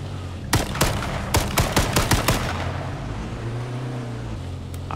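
Bursts of rapid gunfire ring out in the H1Z1 Battle Royale video game, a quick string of loud shots over a vehicle engine drone that continues after the firing stops.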